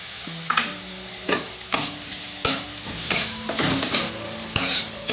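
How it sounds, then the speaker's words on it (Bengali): Garlic paste stirred into a pan with chopped capsicum for an egg and cauliflower curry: rhythmic scraping stirring strokes over a soft sizzle, with faint steady tones between strokes and no voices. "দু তিন মিনিট নেড়ে নেবো এইবার রসুন বাটাটা দিলাম"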